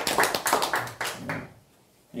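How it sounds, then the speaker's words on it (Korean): A church congregation claps during a Sunday worship service, a brisk burst of hand claps that fades out after about a second and a half, leaving near silence. "이분들 위해서 한번 박수 한번 하나님께 올리겠습니다"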